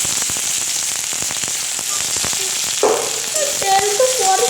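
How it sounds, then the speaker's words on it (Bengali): Onions going into hot oil for egg bhujia make a steady, loud frying sizzle with dense crackles. Near the end the hiss swells, and a brief voice and clatter come in. "আমি এখন পেঁয়াজটা দিয়ে দিই"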